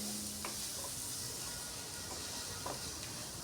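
Spice masala with a little red chilli powder sautéing in a pan for biryani, giving a faint, continuous sizzle and hiss with light stirring scrapes, no voices.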